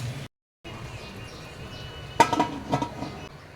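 A metal lid goes onto a pressure cooker holding Hyderabadi-style baghare baigan, giving a couple of sharp metallic clanks and clinks near the end of an otherwise quiet kitchen moment.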